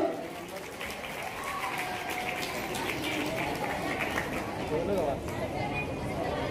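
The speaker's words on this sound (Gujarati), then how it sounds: "એક વાર તાળીઓ થઈ જાય સ્મિતભાઈ માટે" Audience applause at a community student award ceremony, a sustained wash of clapping from a crowd filling the whole stretch, with a little background chatter under it.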